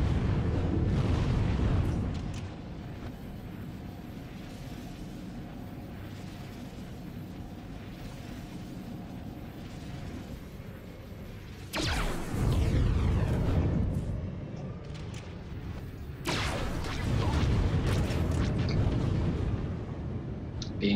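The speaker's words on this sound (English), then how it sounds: "Being shot at." A starfighter in SWTOR space combat takes fire, with loud rumbling explosions and bursts swelling around a steady engine drone, one big blast landing near the middle and more booms following.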